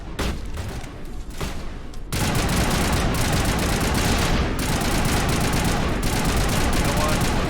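Rapid assault rifle fire in a space shooter video game, a loud dense stream of automatic shots that starts with scattered bursts and then runs continuously for several seconds.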